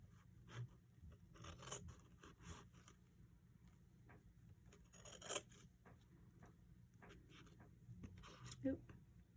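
Scissors snip through a paper envelope being made for a letter to Santa, with short, quiet cuts and rasping strokes spread across a steady low background, one louder snip standing out near the middle.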